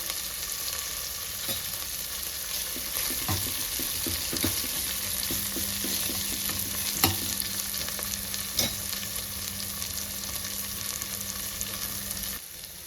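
Crushed garlic is frying in a pan for a coconut vegetable dish, making a steady, moderate sizzle with occasional spatula scrapes and light knocks against the pan throughout.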